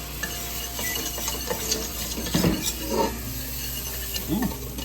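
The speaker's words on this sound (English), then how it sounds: "We're going to take a little bit of broth and mix it in, whisk it up." Broth whisked into a hot chicken wild rice soup base in a pot, with busy close scraping and stirring over a continuous sizzle and occasional metallic clinks, no talk.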